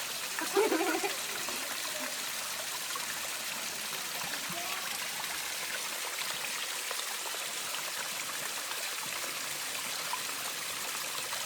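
Natural stream water in the Sahyadri hills of Ekole valley near Lonavala, a steady, even trickle and rush of flowing water that continues alone at moderate loudness throughout.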